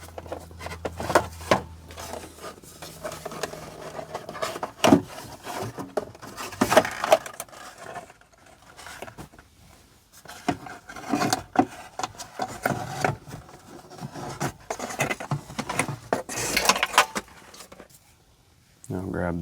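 A plastic top steering column cover is pried and pulled off a Volvo XC70 dashboard, with scraping, rubbing and clicking handling noises at close range, uneven and intermittent, punctuated by sharper snaps.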